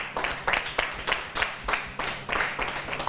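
Audience and contestants at a pastry competition clap as the first round ends, in loud, close bursts of uneven applause that swell and fade in irregular waves.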